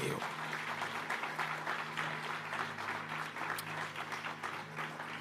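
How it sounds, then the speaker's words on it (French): A congregation at an evangelical church service applauds, a steady, dense wash of clapping that fills the whole stretch, with a low sustained tone and some voices underneath. "En troisième fois, on nous acclame"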